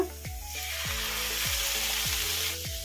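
Cabbage frying in a pan as chopped tomato goes in, a steady sizzle with a low hum beneath and a series of regular scraping or clinking strokes roughly every half second, close and moderately loud.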